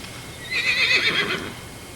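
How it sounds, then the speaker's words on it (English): Horses whinny outdoors in a wilderness setting, a single drawn-out, shrill neigh rising over a steady background hiss at moderate distance, with no talking. "Horses think they're hungry."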